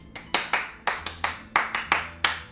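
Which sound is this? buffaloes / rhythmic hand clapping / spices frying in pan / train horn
rhythmic hand clapping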